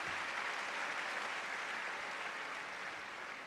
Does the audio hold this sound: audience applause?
yes